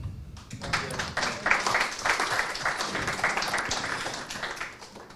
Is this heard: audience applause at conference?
yes